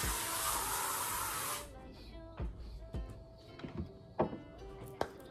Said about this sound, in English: And we're gonna spray it around my room